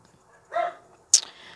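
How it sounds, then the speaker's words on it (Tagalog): A dog gives a couple of short barks, one muffled yelp followed by a sharper, higher bark, brief and moderately close in an otherwise quiet room. "Maingay po yung aso namin."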